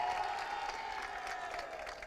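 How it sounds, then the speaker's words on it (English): A crowd applauds steadily and loudly for the new junior world karting champion at the FIA Karting World Championship podium, a dense wash of clapping with some cheering throughout. "please, your biggest round of applause for our new junior world champion from the UK, Freddie Slater."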